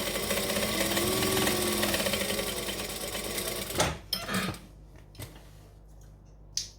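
A sewing machine stitches a zipper pocket without interfacing, a steady loud motorized whir running for about four seconds, then stopping, followed by a few brief clicks and small handling noises.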